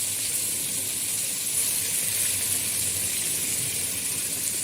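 Meat pieces sear in hot ghee in a pot, giving a loud, steady, continuous sizzling hiss throughout with no pauses.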